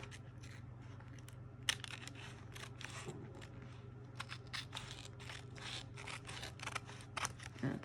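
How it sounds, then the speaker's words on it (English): Scissors trim paper for a junk journal, close and quiet snips and crisp cuts arriving in scattered clusters over a low steady background hum. "Let's trim some of this off."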